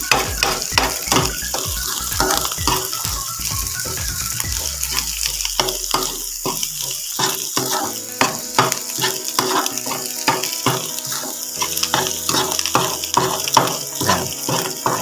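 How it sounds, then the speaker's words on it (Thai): Grated coconut being dry-roasted in a pan for a Thai coconut and egg dish, with steady scraping, stirring and ratcheting clicks of a utensil against the pan over a faint sizzle, close and continuous. "มะพร้าว คั่วไปเรื่อย ๆ ครับ"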